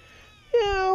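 A kitten in a basket gives one clear, loud meow partway through, rising then holding steady, after a quiet start.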